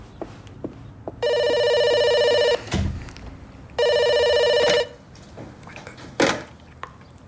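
An office telephone rings twice in long electronic trilling bursts about a second each, separated by a pause with small clunks and rustles nearby, heard close in a quiet room.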